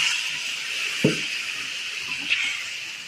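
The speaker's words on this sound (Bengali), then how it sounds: "এবার আমি জল দিয়ে দেবো" Water pours into a pan of spicy egg curry, a steady rushing stream close by with a brief splash near the start.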